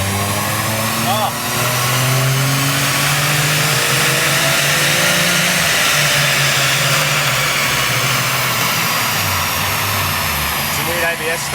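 A turbocharged car engine at wide open throttle drones loud and steady throughout, with rising engine tones and voices talking over the noise.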